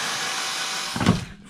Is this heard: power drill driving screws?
yes